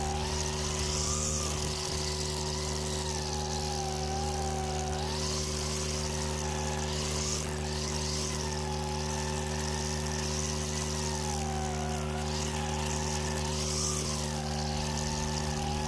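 A brush cutter engine runs steadily while cutting dense clover, giving a continuous droning whine with slight rises and falls in pitch as the load changes, fairly close and alone.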